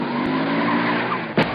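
Car tires screech loudly in a radio commercial, a sustained skidding squeal that holds steady for over a second before ending in a short, sharp impact-like burst.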